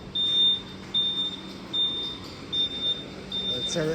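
An automatic tire machine gives a series of long, high, steady beeps at regular intervals, loud and close, with faint background clatter of a workshop.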